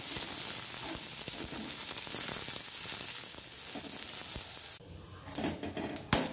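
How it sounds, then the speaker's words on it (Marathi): Sliced onion and garlic fry steadily in a hot pan, a dense, loud sizzle that runs without a break for about five seconds, then drops away into quieter crackles and a few light scrapes. "मी ह्याच्यामध्ये उभा कट केलेला कांदा तो पण भाजून घ्यायचा आहे आपल्याला. आणि लसूण पण मी टाकलाय"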